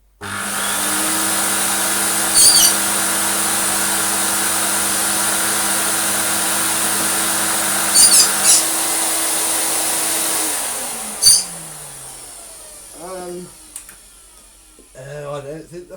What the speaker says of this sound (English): We better check that the pump itself works.